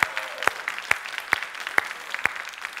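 A studio audience claps for guests on a television talk show: sharp, evenly spaced loud claps land about twice a second over a softer bed of scattered clapping.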